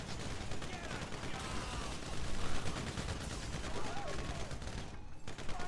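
Dense bursts of GTA V Online gunfire during a casino heist rattle continuously over a noisy mix, rapid shots overlapping without pause.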